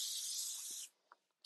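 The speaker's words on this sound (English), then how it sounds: "Just gonna go in with a basic hairspray." Hairspray from an aerosol can sprays onto hair in one long, steady hiss lasting nearly a second, followed by a few faint handling taps and the start of another spray burst.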